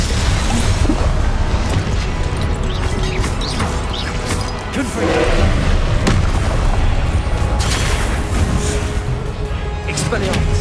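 Fire-blast spell explosions from Hogwarts Legacy, a dense barrage of booming blasts and crashes over continuous battle noise, with a voice speaking throughout.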